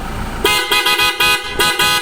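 A Toyota Fortuner's upgraded horn, combined with its stock horn, blasts repeatedly in short, loud honks of uneven length, very close and alone.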